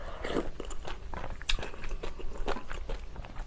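Spicy kimchi is bitten and crunched close up in a continuous run of wet, crisp chewing sounds, with a few sharper crunches standing out above the steady mastication.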